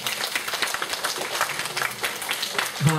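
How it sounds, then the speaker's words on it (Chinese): Students in a university sociology lecture at National Sun Yat-sen University applaud themselves, a steady patter of many hands clapping at moderate volume with a voice faintly heard near the end. "那我们给自己鼓掌一下好不好？"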